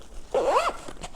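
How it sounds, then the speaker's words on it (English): A single quick zip closes a compartment on a Nomad Lane Bento Bag travel bag, close and crisp, followed by faint handling rustles. "I'll zip that back up."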